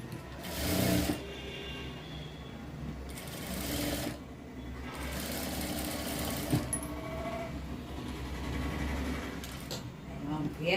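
A sewing machine runs a loose stitch around a frock to hold the main piece and lining together. Its close, rasping whir comes in several bursts, with someone talking over it.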